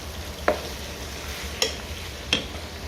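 Onions sizzle in a pan for a liver stew, a steady soft frying hiss broken by three sharp clicks from stirring, close and unaccompanied by talk.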